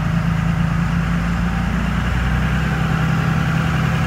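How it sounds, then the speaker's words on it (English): A 5.9 Cummins diesel engine idles steadily and close by after its fuel filters are changed, a loud, continuous low rumble holding even throughout with no voices. "All right, it's been running now."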